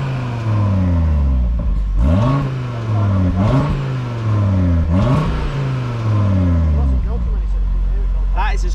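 An Audi RS3 8Y engine revs hard several times during an exhaust sound check, with loud rising and falling surges that settle back to idle between blips.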